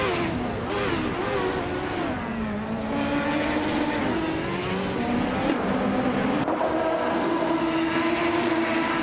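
The engine of a 1995 Reynard 95i race car in a racing game roars loudly and continuously, its pitch wavering up and down through gear changes and a sudden shift.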